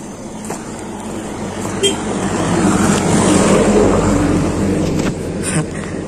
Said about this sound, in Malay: Bunyi lori.